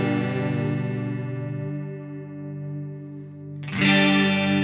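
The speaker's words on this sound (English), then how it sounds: "Still sounds like a chorus a little bit" Electric guitar through a Strymon Timeline delay pedal set for a vibrato, chorus-like modulation: a sustained, wavering chord rings alone, fading slightly before a fresh strum at the end swells up loud and shimmering.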